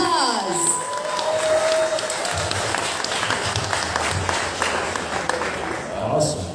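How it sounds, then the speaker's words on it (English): A bar audience at a science talk night applauds a speaker with sustained clapping and some cheering, fairly close and continuous. A voice comes in near the end. "So round of applause."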